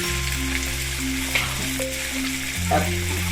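Ginger-chilli paste sizzles steadily in hot oil for a methi matar malai sabzi, a loud, close hiss with a low steady hum running beneath it.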